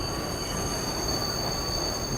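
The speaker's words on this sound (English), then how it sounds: "The screech of the train pulling into the next station split the air, drowning out the rhythm of its wheels on the tracks." A train rattles and screeches into a station, with steady, loud wheel squeal in high sustained tones over a continuous rumbling rattle, close and unbroken.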